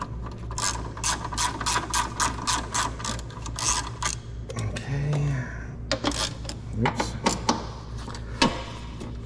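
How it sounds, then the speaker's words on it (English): Ratchet clicking in quick repeated bursts while bolts are pulled from a radiator assembly during a Nissan Z31 restoration, with metallic clatter and a low background hum throughout. "So there's just these four bolts that are holding the whole assembly in. So we'll get those pulled out"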